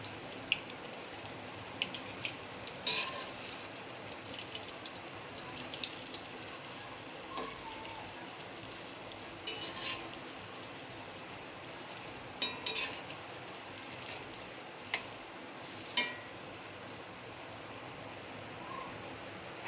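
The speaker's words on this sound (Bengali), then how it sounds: "কোপ্তাগুলো আমার এখন সুন্দর করে লাল লাল করে ভাজা হয়ে গেছে" Bottle gourd koftas fry in oil in a pan, giving a soft, steady sizzle broken by occasional pops and crackles, fairly faint and with no talking.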